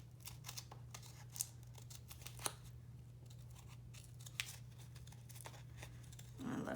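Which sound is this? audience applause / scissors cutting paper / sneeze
scissors cutting paper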